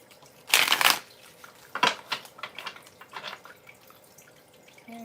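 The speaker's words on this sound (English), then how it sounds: "let's shuffle" Tarot cards being shuffled, a few short crisp riffling bursts, the first loudest, followed by softer brushing and tapping of the deck, fairly close and without talk.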